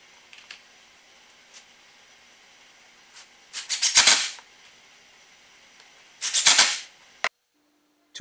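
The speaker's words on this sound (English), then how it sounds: "Now I'll assemble the face frames with pocket screws." Pocket screws driven into wooden bookcase face frames, two short loud whirring bursts of a drill with brief sharp clicks between, alone in a quiet workshop.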